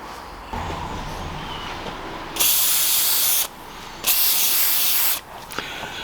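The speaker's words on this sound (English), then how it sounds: "Not a time to be shy with the penetrating fluid here." Penetrating fluid sprayed from an aerosol can onto engine parts during an engine strip and clean, two loud, steady hissing bursts of about a second each, close up, over a quiet background.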